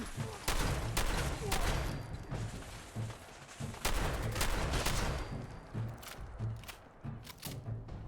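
Shotgun blasts in a video game, repeated heavy booming shots in an irregular rhythm across the scene, loud and close with low rumbling tails, some game sounds or voices faintly mixed underneath.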